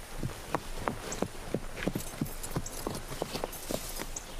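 A horse walks at a steady clip-clop, each hoof strike crisp and distinct against quiet outdoor ambience, with no talk over the hooves.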